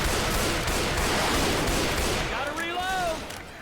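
Sustained Left 4 Dead 2 gunfire during a horde attack: dense, rapid shots merging into a continuous roar, easing near the end as a short, voice-like wavering cry rises over it.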